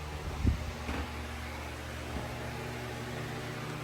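A generator engine runs at a steady, droning hum with a broad airy roar, close and even throughout, with a couple of soft knocks near the start and no speech.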